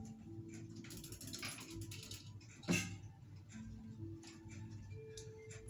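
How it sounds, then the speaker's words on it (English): A grandfather clock is wound by pulling on its chain, giving quiet ratcheting clicks and ticks with one sharper clack in the middle, all close by and faint. "To wind up the clock, you pull on the chain."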